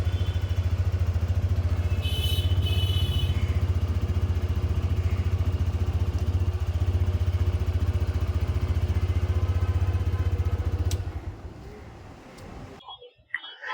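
A TVS Raider 125 motorcycle with a 124.8 cc air-cooled single-cylinder fuel-injected four-stroke engine idles with a steady, even low thrum close by for about eleven seconds, then winds down and falls quiet.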